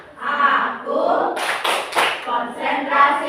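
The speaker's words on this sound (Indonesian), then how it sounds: "Tepuk konsentrasi." A classroom of sixth-grade pupils does a rhythmic concentration clap, bursts of hand claps mixed with children chanting together, close and lively.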